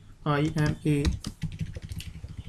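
Someone types on a computer keyboard while writing login-form code, with soft rapid key clicks running under a man's speech through much of the clip.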